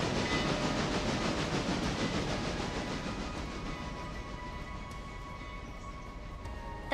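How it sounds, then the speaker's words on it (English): A train rolls past in a video game, a steady rumbling clatter of wagons that is loudest at first and slowly fades and thins out, with a faint hiss and a few metallic tones lingering. "That would explain why I heard another train."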